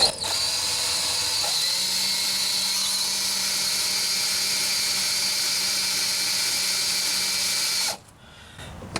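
A power drill bores into a broken, rusted bolt, a loud steady high-pitched whine held for about eight seconds before it cuts off abruptly, leaving quiet handling noise.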